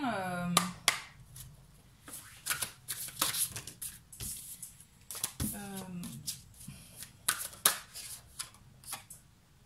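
Tarot cards are shuffled in several quick riffling bursts with pauses between them, close and crisp, while a voice speaks intermittently.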